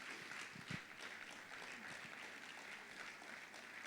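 Audience applause at an awards conference as the winner of an outstanding fellow award is called to the stage, steady, moderately distant clapping throughout with a brief louder burst near the start, faint talk underneath.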